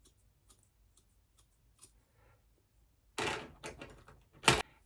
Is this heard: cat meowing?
no